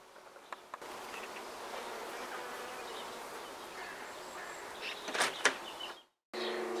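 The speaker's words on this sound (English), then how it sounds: "you can hear the buzzing of the bees" Steady, dense buzzing of bees in a back garden fills the air, a constant insect drone with a couple of brief rattling bumps near the end before a short gap.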